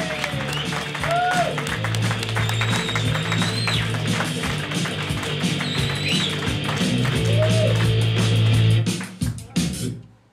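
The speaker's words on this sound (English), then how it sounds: "Big round of applause!" A comedy club audience applauds and cheers to welcome comedian Matt Salmon, sustained clapping with a crowd roar and a loud low hum, fading out at the end.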